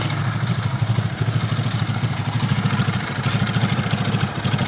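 A 2008 Hero Super Splendor 125cc motorcycle engine runs steadily close by, giving a loud, even, throbbing idle with a rapid mechanical clatter and no pauses.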